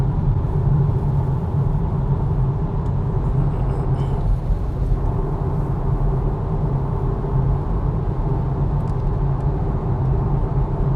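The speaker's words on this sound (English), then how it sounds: "the car is not good at blocking out the noise" Steady, loud low-frequency road and tyre roar fills the cabin of a Polestar 2 Long Range RWD electric car while driving, a constant rumble with no speech.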